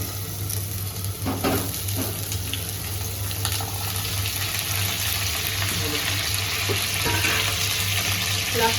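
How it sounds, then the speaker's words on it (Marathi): Onion, chillies, ginger, garlic, mint and spinach fry together in oil for a homemade palak paneer, giving a steady, close broadband sizzle with a constant low hum and occasional stirring scrapes. "हे सगळं आपल्याला एकत्रितपणे फ्राय करायचं आहे"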